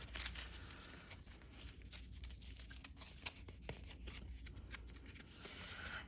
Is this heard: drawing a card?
yes